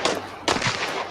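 Video game gunfire: two loud, sharp gunshot bursts about half a second apart, each trailing into a short decay, with no talk over them.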